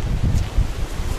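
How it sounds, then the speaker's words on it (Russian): Steady, strong wind by a river buffeting the microphone, a continuous low roar with gusty surges throughout. "Обратите внимание, какой ветер."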